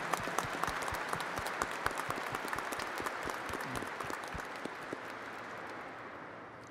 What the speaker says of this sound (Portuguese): Saudemos a palavra de Deus com uma salva de palmas.